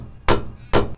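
Two sharp, loud hammer taps about half a second apart drive a fastener down into a composite panel on a DIY Mercedes Unimog camper build, close and alone with no talking.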